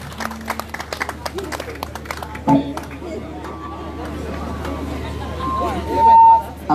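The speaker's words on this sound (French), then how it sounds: "Je voulais qu'on applaudisse très fort pour lui, s'il vous plaît." Scattered hand claps from an audience at Ben Decca's birthday celebration ring out at moderate distance, thinning into crowd murmur and indistinct talk.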